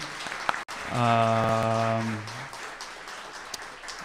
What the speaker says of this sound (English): Let's give Sinan and Ram a round of applause one more time.